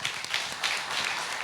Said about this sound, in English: we should give a round of applause to the company people who have made this product